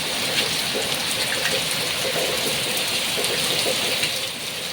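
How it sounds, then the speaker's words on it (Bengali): Heavy rain pours onto a courtyard in a dense, continuous hiss, steady and fairly loud throughout with no speech. "ইস ঝমঝম ঝমঝম বৃষ্টি"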